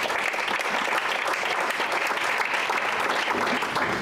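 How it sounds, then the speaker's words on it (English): Audience applause for a country landscaping and garden business, a dense, even round of clapping from a crowd that holds steady for the full stretch, with no talk over it. "let's give MJ's a big round of applause."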